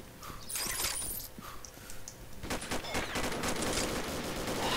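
Rapid bursts of automatic gunfire from the first-person shooter Combat Arms, with FAMAS G2 gameplay, crackle loudly in quick clustered volleys that grow denser toward the end.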